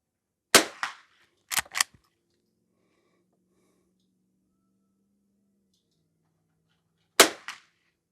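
Shots from a Henry H001 lever-action rifle fired at a target with bulk rimfire ammo: one sharp crack followed by a short echo, two more quick cracks about a second later, then a long quiet gap before a final close, loud report.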